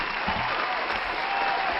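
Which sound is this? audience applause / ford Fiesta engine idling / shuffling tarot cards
audience applause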